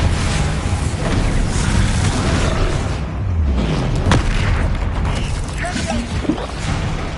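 A Bombarda blasting spell fires in a Hogwarts video game: one sharp booming hit about two-thirds of the way through, sitting inside a dense, steady wash of game music and effects.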